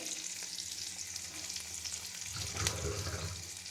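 Garlic frying in hot oil, a faint, even sizzle held close in the pan, swelling slightly near the end with a brief stir.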